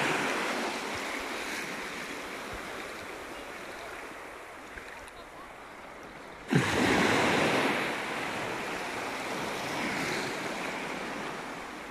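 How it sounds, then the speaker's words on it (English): Sea waves washing onto the beach at Dawlish Warren on a calm, nearly windless morning with the tide far out, a steady broad surf wash that swells louder partway through, with no talk. "I know you said you like the sound of the sea"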